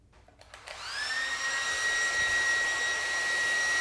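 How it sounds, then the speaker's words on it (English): A handheld hair blow dryer switches on and spins up to a steady high whine with a rushing airflow hiss, close and constant while drying a turkey's tail feathers. "Just going to use a blow dryer. This is the same kind of a blow dryer you would use to dry your hair."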